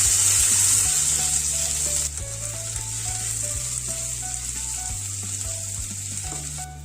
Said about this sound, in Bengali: কড়াইতে সাদা তেল দিয়ে পেঁয়াজগুলো অল্প করে ভেজে নিলাম।